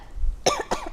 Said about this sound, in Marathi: वा खोकला.